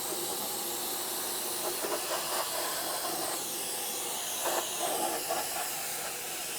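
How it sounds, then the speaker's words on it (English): A portable electric air blower hisses steadily as it blows dust out of equipment, a continuous close rush of air with a few faint clicks and rattles underneath. "This can also be used to blow out like dusty equipment"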